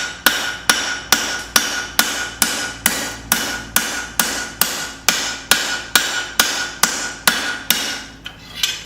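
An African safari knife blade is hammer forged, its flats thinned with a steady series of about sixteen sharp, ringing metallic blows at a regular rhythm, close and loud with no voices.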